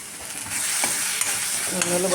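A spoon stirring turmeric powder and coriander leaves into a pan of moong dal curry, soft scraping strokes over a gentle sizzle, a few distinct clinks near the end.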